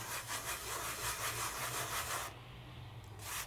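A finger rubs paper on a glue pad in quick rhythmic scratchy strokes, faint and close, with a brief pause near the end before the rubbing resumes.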